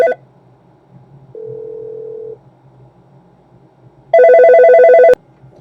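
A ShoreTel/Mitel IP480G desk phone gives a steady, even dial tone lasting about a second. After a pause comes a louder, brighter tonal burst, then a brief click, with no talking.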